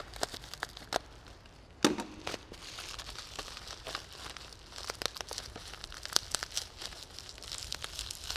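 Thick plastic packaging wrap around a Trio aircraft autopilot being sliced open with a sharp knife, giving close crinkling and tearing rustles with one sharper crack near the start.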